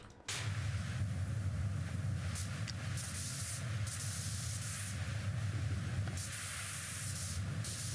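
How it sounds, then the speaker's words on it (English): Pressure washer in the PowerWash Simulator 2 video game spraying a typewriter, a continuous loud hissing jet that starts abruptly and runs steadily throughout without talk. "You have to sit there and spray the individual keys."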